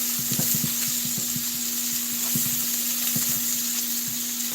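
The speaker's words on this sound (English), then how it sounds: "I'm going to let that saute a little bit in that grease" Three diced onions sauté in hot grease in a pan, a steady loud sizzle with occasional stirring clicks throughout.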